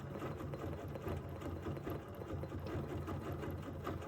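Fibers are couched onto fabric with a sewing machine, producing a quiet, close, continuous rapid stitching whir with a steady mechanical pulse and no talk.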